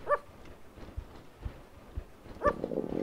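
A dog in a horror video game gives two short sharp barks, a few seconds apart, with dull thuds and low rumbling ambience in between.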